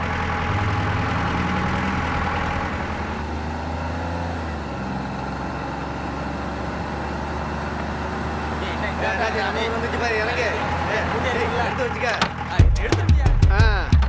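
A vehicle engine idles in a low, steady rumble for most of the stretch, then revs up with clattering noise near the end, while people talk over it.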